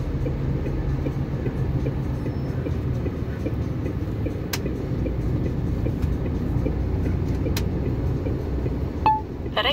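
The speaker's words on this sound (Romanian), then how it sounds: "Ia uite-l pe trenul Shuttle." Rumbling low roar of the Eurotunnel Le Shuttle train at the Calais–Folkestone crossing, a steady rolling drone with faint rattles and a brief clank near the end.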